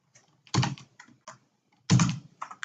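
Login credentials are typed on a computer keyboard, scattered key clicks with two heavier, louder keystrokes standing out, close and with no talking.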